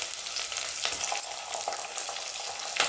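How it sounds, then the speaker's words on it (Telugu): Ginger garlic paste frying in oil with whole garam masala spices for veg biryani, a bright continuous sizzle close up, broken by scattered stirring scrapes and spatters. "ఒక స్పూను అల్లం వెల్లుల్లి పేస్ట్ అండి"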